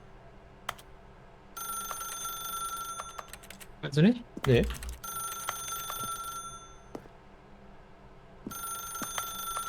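A telephone rings in the video game Stanley Parallel, its electronic bell trilling in long bursts broken by gaps, while people talk briefly in German over it.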